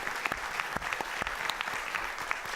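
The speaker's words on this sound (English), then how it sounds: "I think this man deserves a round of applause just for sitting with a table full of lawyers." An audience claps in steady applause at a conference panel on immigration law, the dense patter continuing evenly throughout with no speech over it.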